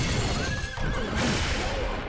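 A horse in the video game Wo Long: Fallen Dynasty gives a loud, drawn-out whinny with a rising and falling pitch, heard over steady game background noise and faint hoof clops.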